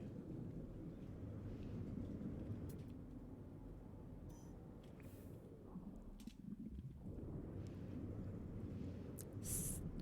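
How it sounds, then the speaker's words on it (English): A thunderstorm with rain in the game No Man's Sky, a steady dense low rumble and hiss of rain and thunder that continues throughout, with brief faint higher clicks on top. "Storm is clearing, it said."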